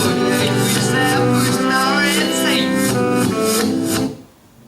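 Song phrase played in reverse: smeared, garbled backwards vocals over music, loud and continuous, cutting off abruptly at the end.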